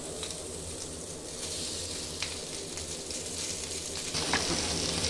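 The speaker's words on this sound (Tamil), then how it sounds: "வாங்க, மீன் பொரிஞ்சிட்ருக்கு." Fish coated in masala and rice flour fries in oil over medium heat, giving a soft, continuous sizzle with faint crackles and no voices.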